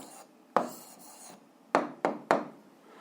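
Handwriting on paper comes through as a few quick scratchy strokes, one isolated tap-like stroke followed by three closely spaced ones, close and fairly quiet against a hushed room.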